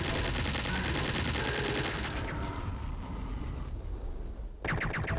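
Rapid submachine gun fire in the video game Duke Nukem 3D, a dense continuous rattle of shots that thins briefly before a fresh burst resumes, loud and without talk.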